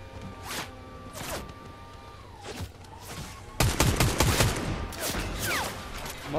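Rapid bursts of gunfire in the Fortnite video game, several sharp volleys close by and loud, with a denser barrage of shots in the second half.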